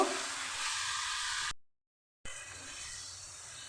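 Chicken sizzling with spices in a pan, a soft steady frying hiss with a brief total dropout in the middle before the faint sizzle resumes.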